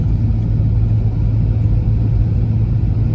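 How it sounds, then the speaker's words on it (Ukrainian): A car driving along a forest road on the way to work, a steady, loud low rumble of engine and tyres that holds constant throughout, with no talking. "такими лісами я їду на роботу."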